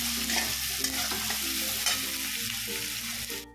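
A large onion sautéing in a pan until deep red-brown for a soybean dish, with a steady close sizzle and stirring scrapes throughout, no talking.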